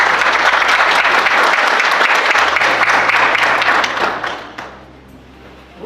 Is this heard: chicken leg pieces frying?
no